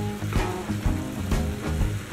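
Ground meat fries dry in a pan with no water, giving a steady close sizzle with faint crackles and a few soft knocks throughout.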